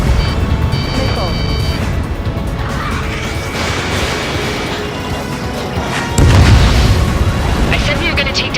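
Missile explosions booming in Ace Combat 7 jet combat, a dense continuous rumble of blasts and engine roar with a heavier, louder burst near the end; radio chatter runs underneath.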